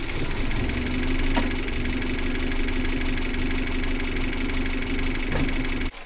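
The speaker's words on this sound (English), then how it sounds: "this Toyota Celica igniter makes this Tercel run" A Toyota Tercel engine fitted with a Celica igniter idles steadily close by, a continuous mid-low hum with a faint rhythmic knock and no voices over it.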